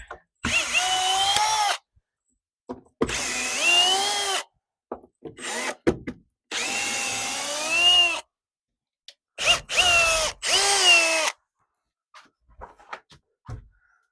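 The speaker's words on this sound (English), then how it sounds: "That way when I go to screw it back in, I don't accidentally screw through that radiant pipe." A power drill drives screws back in during a shower pan installation, with several loud, close bursts of whirring motor whine of a second or two each, separated by silence and small handling clicks.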